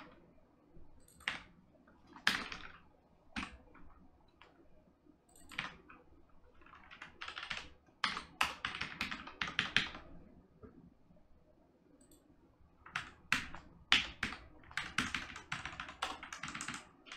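A computer keyboard clicks as code is typed, with bursts of rapid keystrokes and sparse single taps alternating with pauses, close and fairly quiet.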